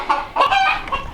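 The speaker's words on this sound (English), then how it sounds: "2 roosters, that black one and white one right there, and then the rest of them are hens." Chickens clucking nearby on a farm flock of two roosters and several hens, short rising clucks and squawks in a quick cluster, close and fairly loud with no talk.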